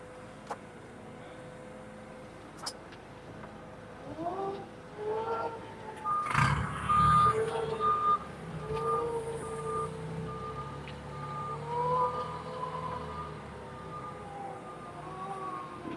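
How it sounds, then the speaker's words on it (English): A Lift Hero CPD25 5,000 lb electric forklift driving forward then reversing, its quiet motor whine under steady reverse beeps and a brief mechanical clunk midway. "I'm gonna take this off and I'm gonna do a quick forward and reverse A for you guys."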